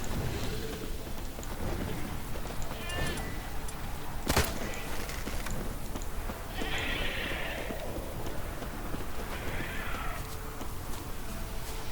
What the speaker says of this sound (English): Not scared to leave the horse down below?